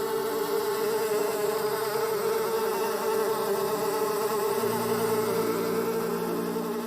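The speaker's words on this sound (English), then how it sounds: "The flies buzzed into the houses and filled Pharaoh's palace." A swarm of flies buzzes in a dense, continuous drone of overlapping wingbeats, loud and steady throughout, with no voices.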